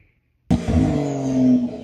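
A 2025 Porsche 911 engine fires up sharply after a brief silence, then holds a loud, steady, rising rev with a strong throaty drone, close and alone.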